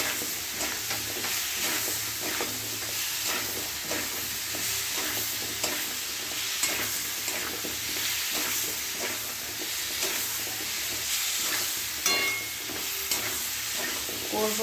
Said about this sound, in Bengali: কষিয়ে নেব। জল দেব না, এতেই সিদ্ধ হয়ে যাবে।